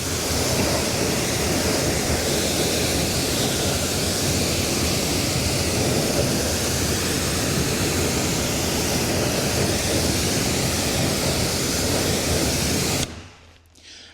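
A hose rinses car wheels with a loud, steady, close hiss of spraying water that runs unbroken before cutting off abruptly near the end, leaving faint dripping.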